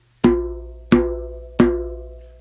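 Three evenly spaced open djembe tones, the hand bouncing off the head, each a clear resonant strike that rings and slowly fades, close and loud with no voices.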